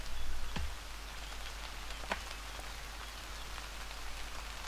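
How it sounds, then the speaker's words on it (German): Steady rain pours down on a farm in the German-language farming video game Harvest Days: My Dream Farm, a continuous even hiss of falling drops with a couple of brief louder taps, with no talking. "umsonst gegossen, jetzt regnet es wieder."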